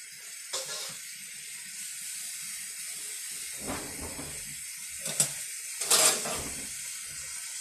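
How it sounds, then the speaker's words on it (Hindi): Rice boils in a pot on the stove with a steady, quiet steamy hiss. A few louder bubbling surges break through, and no one speaks. "हमारी भात जो मैंने राइस चावल चढ़ाया था वो भी खोल रहा है"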